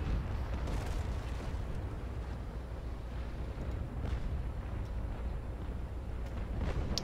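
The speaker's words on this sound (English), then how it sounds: "this long-range artillery duel is what we're good at" Long-range naval artillery duel in the age-of-sail game Naval Action, with a dense, continuous rumble of distant cannon booms rolling and overlapping throughout, punctuated by a few sharper reports.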